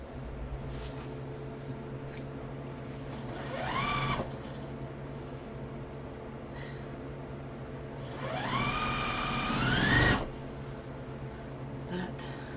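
A sewing machine stitching quilt pieces runs in two short bursts, the motor whine rising in pitch as it speeds up, close and fairly loud over a steady low hum, with quiet pauses between.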